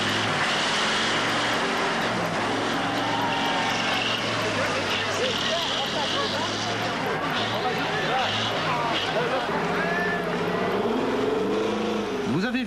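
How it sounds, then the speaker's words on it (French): A semi-trailer truck races across the desert in the Dakar rally, its engine giving a steady, loud, droning roar throughout, with a commentator talking over it. "Un semi-remorque dans le désert?"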